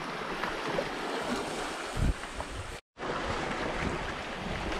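Small waves at sea heard from a boat on a camping and fishing trip, a steady broadband wash of water and wind buffeting close to the microphone, with a brief thump near the middle and a short dropout before the rush resumes.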